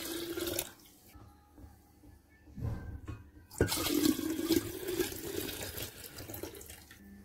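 Liquid for homemade apple cider vinegar is poured into a container in a few splashing, gurgling runs, close by and fairly quiet, the stream swelling louder toward the end.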